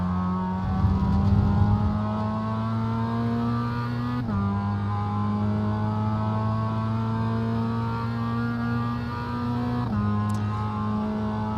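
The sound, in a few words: BMW race car accelerating past GR86 in iRacing video game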